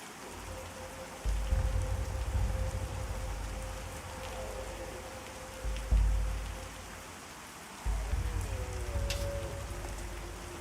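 Steady rain falls in the Pantheon: Rise of the Fallen video game, a continuous patter with bursts of heavier downpour swelling in several times, and no voices.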